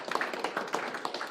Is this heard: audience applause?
yes